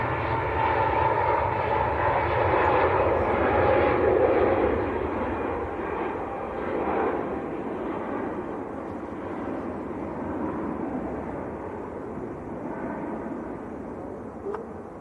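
Turkish Airlines Airbus A321neo airliner heading for Istanbul, its engines a steady, loud broadband roar that swells slightly then holds, continuous throughout with no talk.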